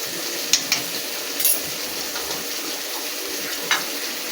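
Spice paste with cumin powder and chili powder frying in a pan, a steady close sizzle broken by a few sharp stirring clinks and scrapes, with no talk.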